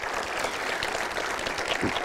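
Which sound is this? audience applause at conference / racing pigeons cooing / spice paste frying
audience applause at conference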